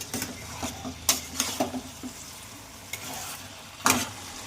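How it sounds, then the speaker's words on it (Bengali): Chicken pieces fry in oily spice paste in a Bengali home-style curry, a steady sizzle broken by repeated scraping strokes of a spoon against the pan, close and without talking. "এবার মাংসটা একটু ভালো করে কষবে।"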